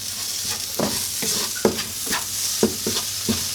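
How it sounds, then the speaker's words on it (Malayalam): Cut tomatoes being stirred into frying masala for a pigeon roast: a steady sizzle with repeated scraping stirs of a spoon against the pan, about eight distinct strokes. "2 തക്കാളി കട്ട് ചെയ്തേക്കുന്ന കൂടി ആഡ് ചെയ്ത് ഒന്നുകൂടി ഒന്ന് ഇളക്കി കൊടുക്കാം"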